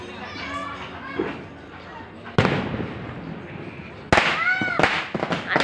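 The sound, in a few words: firecrackers bursting during celebration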